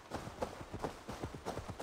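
Galloping horse hooves in the video game Assassin's Creed Valhalla, a steady run of quick, evenly paced clip-clop beats at moderate level that continues for the whole clip, with no voices over it.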